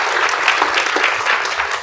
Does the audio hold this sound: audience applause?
yes